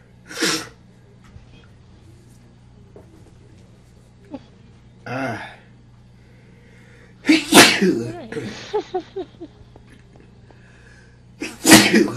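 Several loud, close human sneezes burst out separately, with quieter vocal sounds between them against a low steady hum.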